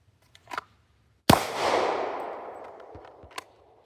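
A single loud handgun shot cracks at an outdoor shooting range and leaves a long, fading echo. A few faint clicks and handling noises come before and after it.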